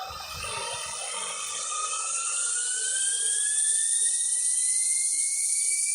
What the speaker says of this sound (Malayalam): Jet pack ഓണാക്കാം.